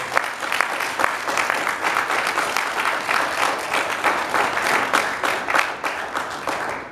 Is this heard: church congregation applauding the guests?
yes